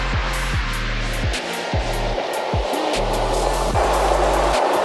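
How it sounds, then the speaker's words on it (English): Steady rush of running water at a waterfall and stream, constant broadband wash close by, with a low repeating mechanical hum pulsing underneath and no talk. "Love the sound of running water."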